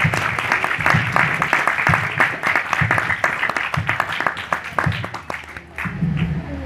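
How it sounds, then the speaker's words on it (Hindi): Hearty applause from a church congregation welcoming a senior pastor, steady clapping with some individual claps standing out, briefly dipping near the end before resuming under a low voice. "तो आपकी जोरदार तालियों में सीनियर पास्टर लियाकत साहब आएंगे"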